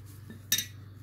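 Metal spoon set aside on a bowl or counter while mixing dough for homemade sweet milk bread, a single short clink standing out alone against a quiet background hum.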